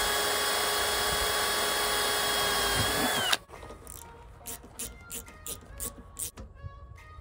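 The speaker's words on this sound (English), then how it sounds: "we decided to use the bandsaw in order to make some flat spacers on the bottom brackets" A bandsaw cuts through a rubber puck to make flat spacers, a steady loud whine that stops abruptly, followed by quieter intermittent shop sounds.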